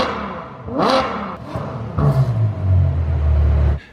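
A V12 car engine with a vacuum-actuated exhaust flap revs up sharply, drops back, then settles into a loud, deep rumbling rev with some rattling clatter, heard close with no talk.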